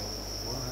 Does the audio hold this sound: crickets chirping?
yes